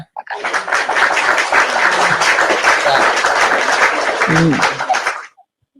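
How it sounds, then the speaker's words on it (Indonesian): A church audience claps continuously and densely for several seconds, a full sustained round of applause that stops abruptly at the end. "Tepuk tangan buat Tuhan."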